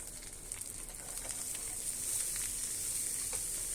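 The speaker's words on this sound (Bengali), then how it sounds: "এখন মশলাগুলো দিয়ে ভেজে নিচ্ছি।" Whole spices frying in hot oil in a pan for a Bengali dal and dried-fish meal, a steady close hissing sizzle with faint crackles that grows slightly louder midway and continues evenly, no speech.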